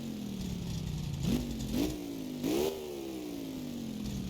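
An engine idles with a low steady drone, then takes three short blips of throttle, each a quick rise in pitch. The last blip is held slightly longer before the sound settles back to idle.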